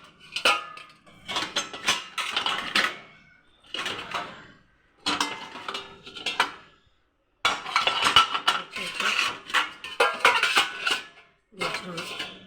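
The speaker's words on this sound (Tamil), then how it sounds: "இது நான் நேற்று உள்ள பாத்திரம் இன்னும் உள்ள பாத்திரம் சேர்த்து போட்டிருக்கேன்." Dishes, pots and cutlery being loaded into the racks of an LG 14-place-setting dishwasher, clattering and clinking in irregular bursts with short pauses, close by.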